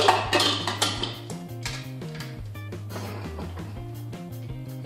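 Metal clanks and clatters of a pressure cooker lid being handled and closed, several sharp knocks close by, then quieter scraping.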